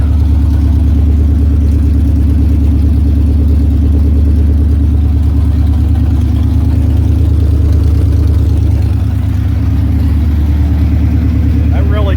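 A car engine with an exhaust leak at the rear idles loudly with a steady low rumble and rapid puffing pulses, close up, with someone talking briefly over it.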